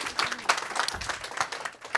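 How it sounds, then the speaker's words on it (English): Audience applause at a workshop on archives for racial and cultural healing, a modest crowd clapping in uneven bursts with sharp individual claps standing out, close and steady for the full stretch. "Let's clap it up."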